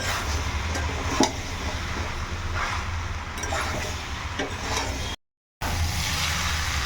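Chickpeas with goat fat sauté in a pan, a steady dense sizzle with a few soft scrapes of stirring and one brief gap.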